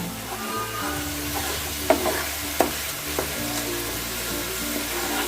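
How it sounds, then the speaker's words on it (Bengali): Masala spices sizzling in oil in a pan for a Bengali boal fish kalia with red chilli powder, a steady quiet fry with a few sharp clinks of a spoon stirring against the pan. "এবার এটা ততক্ষণ পর্যন্ত বসাবো যতক্ষণ না এই মশলাটা থেকে তেল রিলিজ করছে"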